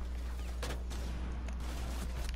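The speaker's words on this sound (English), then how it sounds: "Oh, I shot into the back of the wall." Rapid bursts of gunfire in Rainbow Six Siege, a few sharp shots close together over a steady game background hum, loud and with no talking.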